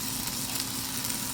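Fried rice with leftover chicken and steak sizzles steadily in a hot pan, a continuous close crackle and hiss that holds at an even level throughout, with no voices.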